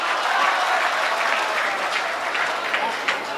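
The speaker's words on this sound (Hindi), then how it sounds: "तेरी अभी भी तालियां कमजोर हैं" Crowd applause at an All India Mushaira poetry gathering in Jaunpur during a Naat recitation: dense, steady clapping that fills the whole stretch at an even level.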